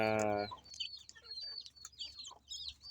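A silkie crossbreed hen clucks softly and steadily beside her four chicks, with high peeping chirps scattered over the low clucks, close by. A short burst of speech comes at the start.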